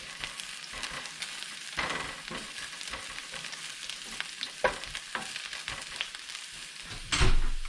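Chopped garlic frying in a pan before Romanesco broccoli goes in, with a continuous close sizzle and repeated scraping stirs, ending in a louder burst of stirring.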